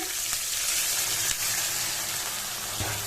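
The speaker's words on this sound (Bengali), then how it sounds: "এখন আমি জল অ্যাড করে দিচ্ছি" Water added to fried spice masala in a hot pan brings a loud, continuous sizzling hiss with a couple of brief stirring knocks, and nobody speaks.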